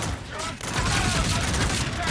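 Shotgun fire in the Call of Duty: Infinite Warfare video game, a dense burst of loud gunfire and booming impacts running almost continuously through the clip, with game sound effects layered underneath.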